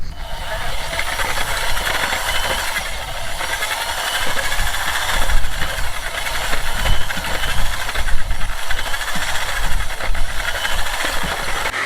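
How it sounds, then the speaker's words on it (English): A small dinky mixer churning lime wash on a Spanish finca renovation site, a steady loud motor drone with a hissing, rumbling wash of sound that rises and falls slightly but never stops. "We have a little dinky mixer that we use for the lime, for the wash."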